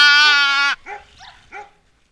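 Karacabey Merino sheep and lambs bleat close by: a loud sustained bleat, then three shorter, softer bleats at a quicker pace.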